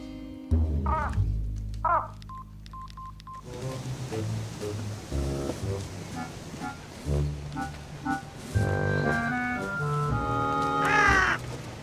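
Crows cawing in a short run of harsh calls, mixed with music and other sounds from a TV show scene about a marine park.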